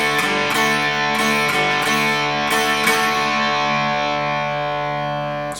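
Distorted electric guitar from a guitar lesson lets the open fourth string ring under a few picked notes, the sustained tone slowly fading over several seconds, loud and near, with no speech.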